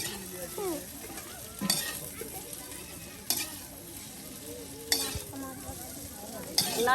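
Food fries in hot oil in a pan at a riverside village cooking spot, giving a steady crackling sizzle. Sharp scrape-and-clatter accents of stirring break in roughly every second and a half.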